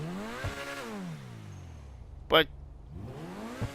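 A Progen Itali GTB in GTA V revs up and falls away, then revs again, the engine note sweeping up and down with a sharp click in between and a brief spoken word.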